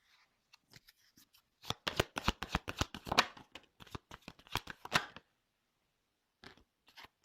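Tarot cards are shuffled close up in a rapid run of crisp riffling flicks. A few stray taps come before and after the run, which is quiet throughout.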